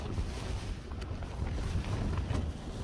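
Strong 40 mph plus wind buffets a Lanshan tent, a loud, steady low roar with rumbling gusts and flapping fabric pressing close all around.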